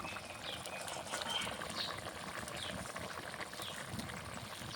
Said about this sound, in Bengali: ভালো করে এখন কিছুক্ষণ ফুটিয়ে নেব